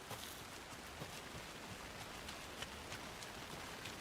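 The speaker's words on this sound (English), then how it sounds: "I never minded rain. Feels like home." Steady rain in the Alan Wake II game world, a dense even hiss of falling water with scattered soft droplet ticks, continuous and close, no talking over it.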